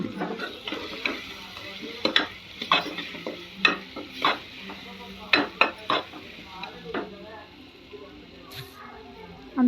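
Turmeric stirred into hot oil in a pan for a chicken gravy curry: a soft sizzle under repeated metallic scrapes and clinks of a spoon against the pan in an uneven rhythm.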